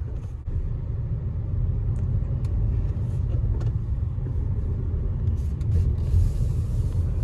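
Low, steady rumble of a Hyundai Creta diesel engine in second gear as the SUV turns, heard from inside the cabin; droning and constant, with a few faint clicks and no talk.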